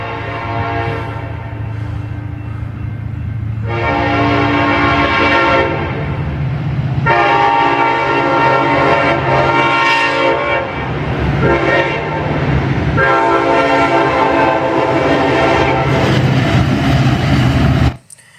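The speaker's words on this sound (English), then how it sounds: "this next train was a UP intermodal at night" A Union Pacific intermodal freight train passes at night, its loud horn sounding in several long, harmonically rich blasts over the steady rumble and rattle of rolling cars, close and dominant throughout.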